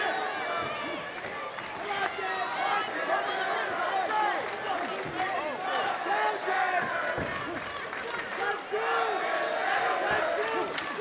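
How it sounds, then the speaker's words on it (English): A loud crowd roars and cheers continuously at a live military combat fight event, a dense wall of voices and shouts filling the space while a commentator speaks over it. "The crowd showing their love for Sergeant Major Clark Wright."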